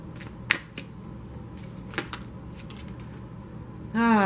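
Tarot cards shuffled by hand before an advice card is drawn, with a few soft snaps and riffles, closing in a short louder burst of card handling at the end.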